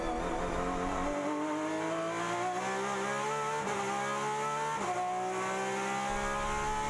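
A Porsche 911 RSR race car laps the Daytona track, its engine note climbing steadily through the gears with two quick upshifts that briefly drop the pitch, loud and close throughout.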